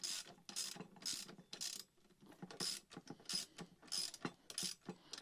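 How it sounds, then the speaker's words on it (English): A ratchet tightens a nut on a Beast Stick Mini bracket, a run of quick clicking bursts in a steady back-and-forth rhythm with brief pauses, close and fairly quiet. "then you can take your ratchet, make sure it's going the right way, and tighten it righty-tighty."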